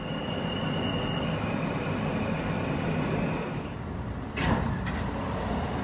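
A New York subway J train runs along the track with a loud, continuous rumble and rattle, a faint squeal early on and a brief louder clatter near the end.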